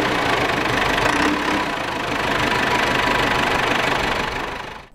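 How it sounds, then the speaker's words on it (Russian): A tractor loading snow into the bed of a KamAZ truck on a village roadside runs with a steady, loud, knocking diesel drone that holds throughout before fading out at the end. "Тракторист забрасывает снег в кузов КамАЗа"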